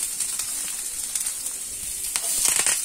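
Garlic, finely chopped ginger, green chili, curry leaves and onion hit hot oil together for a masoor dal snack, giving a steady, close sizzle that swells louder and crackles more toward the end, with no talking.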